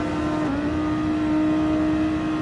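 An Audi race car in a racing series accelerates down a straight, its engine a steady, sustained high-pitched whine that holds loud and close for the whole stretch with a slight pitch shift partway through.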